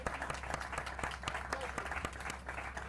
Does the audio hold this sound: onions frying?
no